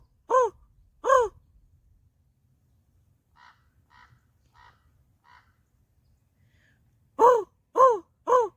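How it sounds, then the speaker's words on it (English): Crows caw in loud, harsh bursts, two near calls at the start and three at the end, with softer, more distant caws between and no talk. "And crows, because they were talking to me today."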